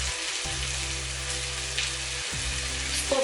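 Tomatoes frying in a pan with onion, paprika and softened red pepper give a steady, close hiss with no voices over it.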